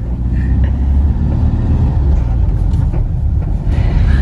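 Car interior while driving out of El Chaltén, with a loud, continuous low engine rumble and road noise steady throughout, faint cabin sounds on top.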